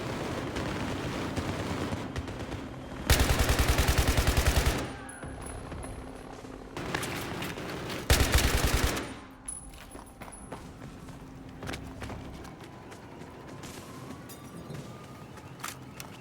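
An RPK machine gun in Battlefield 3 fires two long, loud automatic bursts with rapid, even shots, separated by quieter game ambience and scattered distant gunfire.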